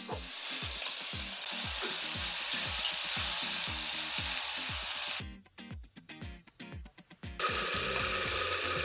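Ginger and garlic fry in hot oil with a loud, steady sizzle and rhythmic stirring scrapes, the hiss briefly dropping away for a couple of seconds before roaring back, no voices.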